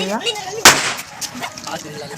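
A single sharp Diwali firecracker burst cracks out once, loud and close, with voices talking before and after it.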